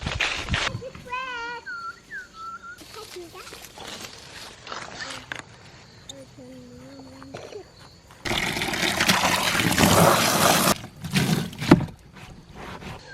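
A garden hose runs while a dog named Buster plays in the spray, during an apple-washing job. Voices talk at first, then a loud, broad rush of spraying water surges for a few seconds, followed by lighter, choppy splashing.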